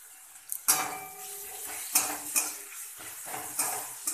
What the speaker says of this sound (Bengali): ভালো করে মশলাটা কষিয়ে দেবো